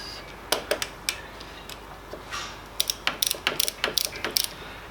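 A hand ratchet tightens bolts to spec on a BMW K1300R motorcycle, giving close, crisp clicking in short bursts that speed into a rapid run of clicks near the end.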